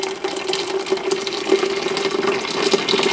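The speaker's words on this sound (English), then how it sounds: "The water was boiling, so I'm going to go ahead and pour that into my pitcher" Boiling water is poured from a teapot into a pitcher, giving a steady, close, continuous splashing rush with a sustained tonal ring throughout.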